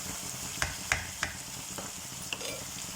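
Mutton for an Assamese-style curry fries in a pan with a steady, close sizzle, punctuated by a few sharp clinks and scrapes of a spoon stirring the meat.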